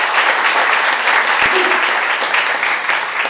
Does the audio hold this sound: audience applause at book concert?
yes